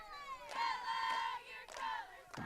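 Crowd cheering at a high school boys soccer game, sustained shouts and whoops rising in a couple of swells, moderately near.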